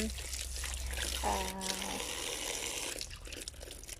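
Holy water runs from a tap at a church, a soft splashing flow that is heard briefly under a woman's speech and quiet background noise.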